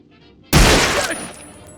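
A single loud, sharp gunshot blast erupts in the video game Fallen Aces after a quiet moment, then decays into a ringing, crackling tail.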